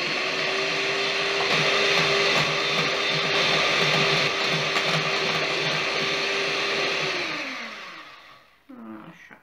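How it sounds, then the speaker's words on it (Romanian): A steady, loud electric hand mixer whirs continuously for several seconds, then winds down and stops near the end. "Și acum cu mixerul o să amestecăm și o să facem și amestecăm încet"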